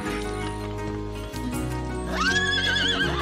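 A small donkey gives one loud, drawn-out bray that rises and wavers partway through, over a steady tonal musical backing.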